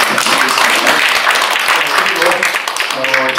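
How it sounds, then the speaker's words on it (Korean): Audience at an academic seminar clapping in a sustained, dense wash of applause that fills the room. A voice starts to come through just as the clapping thins toward the end. "두 분 교수님께서 좀 목고를 발표해 주셨는데 다시 한번 좀 박수 부탁드리겠습니다."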